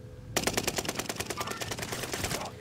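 Automatic gunfire in a team shooter video game, a sharp rapid burst of evenly spaced shots that starts abruptly and rattles on for about two seconds, loud and close.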